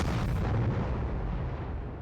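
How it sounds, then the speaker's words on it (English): Explosion sound effect standing for the Big Bang, a loud, deep rumbling boom that hits at once and slowly fades over two seconds. "The Big Bang."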